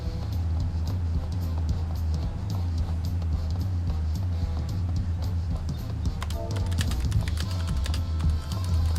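Computer keyboard keys clatter in quick, irregular taps beneath continuous game sound, growing busier and sharper toward the end.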